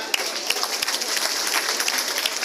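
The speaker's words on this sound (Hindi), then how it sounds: "एक बार जोरदार तालियां।" Dense, steady applause from an audience at a formal award ceremony honouring students, with a crowd clapping loudly and continuously throughout.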